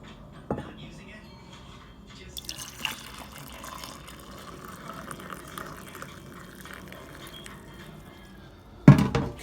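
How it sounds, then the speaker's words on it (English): Magnesium oil poured into a cup, a soft close trickle and drip of liquid over quiet whispered talk, ending with a sharp clunk as the container is set down. "I'll pour it in this cup first,"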